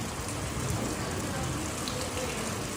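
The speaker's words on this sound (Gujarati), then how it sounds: "વરસાદનો ધોધ પડે જ ભાઈ" Heavy rain pours down in a village, a dense, steady roar of falling water that stays loud and unbroken throughout.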